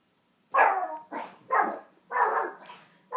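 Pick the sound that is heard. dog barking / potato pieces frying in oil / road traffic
dog barking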